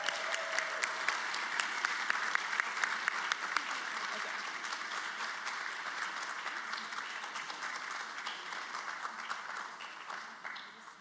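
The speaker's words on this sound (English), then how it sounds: "can we get a round of applause?" An audience at a university social work awards and promotions celebration gives a steady round of applause lasting about ten seconds, dense and even before tapering off at the end.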